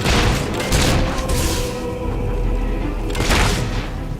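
Heavy gunfire and booming blasts roll through a Fable III battle, loud and dense, with bursts swelling at the start and again near the end over a constant low rumble.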